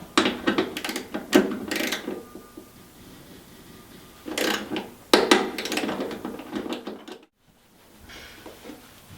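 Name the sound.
torquing bolts to 18 foot-pounds with a torque wrench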